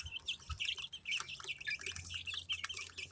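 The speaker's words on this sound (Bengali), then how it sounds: "মুরগির বাচ্চাগুলো" Kadaknath chicken chicks kept for sale give a busy stream of high, close peeping chirps that overlap almost without pause, with faint low rustling underneath.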